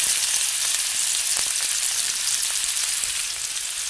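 Garlic and onion fry in hot cooking oil, producing a steady close sizzle with a few faint clicks of stirring and no talking.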